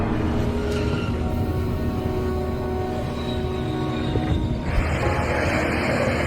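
A steady, loud rumble of a heavy freight train in Texas rolling past, continuous and droning, before striking a pickup truck stranded on the tracks, with the noise shifting slightly near the end.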